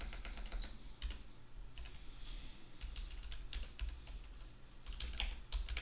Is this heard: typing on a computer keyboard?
yes